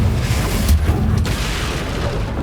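A Confringo spell blast in the Hogwarts Legacy video game, a loud, dense boom that fills the whole moment with a deep rumbling roar and no speech.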